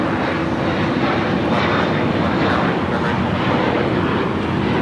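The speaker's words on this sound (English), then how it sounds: "it's meant to be taking off to Newark, JetBlue 1874. It's an A321." A JetBlue Airbus A321 airliner takes off at LAX, its engine roar loud, steady and broadband throughout, with a faint wind-like rush layered over it.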